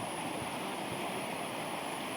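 River water on a fishing outing rushes along with a strong current, a steady, close, full wash of flowing noise with no voices.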